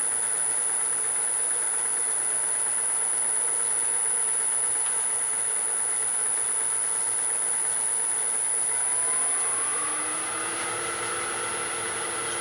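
A cedar vase spinning on a wood lathe while being polished gives a steady, fairly loud mechanical hum with a faint high whine on top, and the pitch drops toward the end as the lathe slows.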